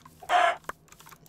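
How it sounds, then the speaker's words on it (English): A Minecraft chicken gives a single short, bright cluck up close, followed by faint scattered game sounds over a low steady hum. "Chicken."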